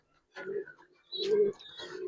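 Giribaz pigeons coo in a loft, two close, soft phrases separated by a brief pause, with no other sound around them.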